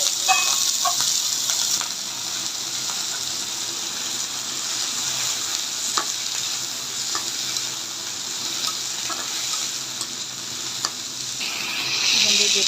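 Onion and leafy-green stalks fry in a pan with a steady close sizzle. Occasional clinks and scrapes from stirring break in, and the frying swells near the end. No one speaks.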